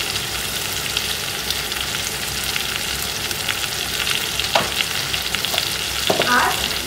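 Turmeric, chili and cumin powder sautéing in a hot pan, a steady close sizzle and fry with occasional stirring scrapes and clinks near the end, no voices.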